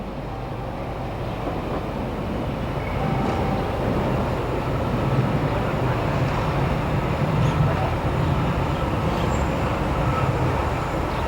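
A small red NSTCM narrow-gauge railway train runs past in a steady, continuous loud rumble of wheels and motor, holding an even level throughout with no voices.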